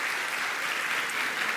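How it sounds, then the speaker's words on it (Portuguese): Congregation in a church applauding, a dense, even wash of clapping that holds steady throughout the short moment with no voices. "Uma salva de palmas para as mulheres?"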